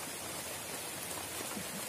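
Steady rain falls outdoors at night, a soft, even hiss with no distinct drops, faint and continuous with no voices over it.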